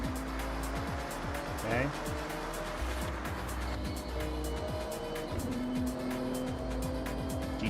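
A Nissan GT-R races in Forza Horizon 6, with a continuous engine snarl, repeated shifts and tire noise filling the mix while a voice briefly speaks over it.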